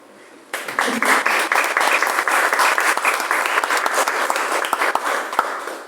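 A room full of people bursts into applause at a book launch for a fantasy anthology in a municipal library, the dense clapping starting abruptly and holding steady and fairly loud throughout.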